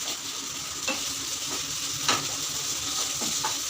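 Spice masala with chilli powder, garam masala and turmeric sautéing in a pan, a steady close sizzle broken by a handful of scraping stirs of the spatula against the pan, with no voices.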